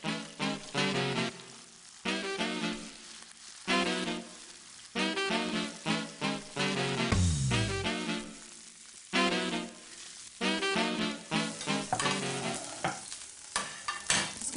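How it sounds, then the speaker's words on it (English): Fish fillets fry skin-side down in a hot pan, a busy crackling sizzle interrupted by repeated bursts of stirring and scraping, with a brief low thump partway through; no one speaks. "Now what I want is for the skin to crisp, and I'll just turn them round so that they're just cooked through"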